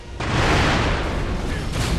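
Firecracker prosthetic tool going off in the video game Sekiro, a loud sudden burst followed by a sustained crackling, popping roar that fills the clip with no speech.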